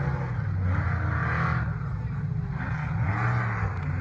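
Ford Bronco trucks drive at the new 4x4 park at Beach Bend Raceway in Bowling Green during an NMRA event, giving a steady, loud engine drone with low rumble and swells of revving throughout.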